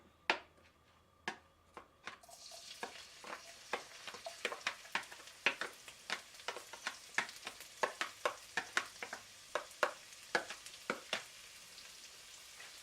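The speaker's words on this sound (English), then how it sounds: "Fry this till it's fragrant." Garlic fries in a pan, starting quiet, then becoming a close sizzle punctuated by a regular series of sharp pops and spatters.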